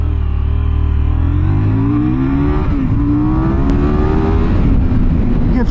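A 2024 KTM 990 Duke motorcycle accelerating hard, its loud engine note climbing steadily in pitch through a gear with a brief shift, close and continuous wind-buffeted roar.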